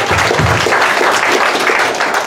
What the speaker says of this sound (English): We can clap for them, clap for members, thank you.